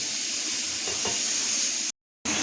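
Strong milky chai simmering in a pan on a home kitchen stove, a steady close sizzling hiss with faint bubbling pops, briefly cut off near the end.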